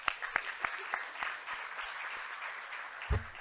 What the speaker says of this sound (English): So let's give a round of applause to Impact.